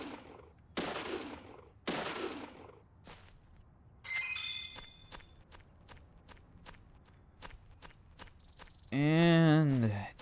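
Gunshots fire at a nest in the video game Deadly Premonition. Sharp single shots come at irregular intervals, several in a row, with a footstep-like shuffle between them and a brief harsh whirring burst near the end.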